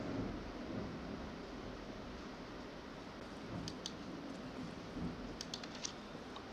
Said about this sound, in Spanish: está muy fuerte la tormenta